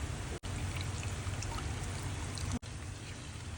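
A steady stream of tamarind water pours continuously into a pan of oil and spice powder while making vatha kuzhambu, with a soft splashing hiss, briefly interrupted twice.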